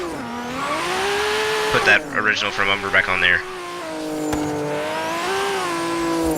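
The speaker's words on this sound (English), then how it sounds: "The engine sound is even meaner because I upgraded that turbo" A Nissan Skyline R31 in Forza Horizon 3, stock engine with an upgraded single turbo, revs up and holds a loud, steady, climbing engine note; someone talks over it midway before the engine swells again alone.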